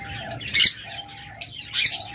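A bonded pair of parblue Fischer's lovebirds calling, with sharp shrill squawks in two loud bursts and quieter chirps between, close and clear with no talking.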